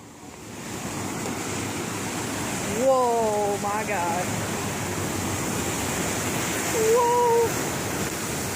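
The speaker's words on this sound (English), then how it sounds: "Right underneath some waterfalls." A waterfall roars as a loud, constant broadband rush close by, steady throughout, with a person's surprised exclamations rising over it twice.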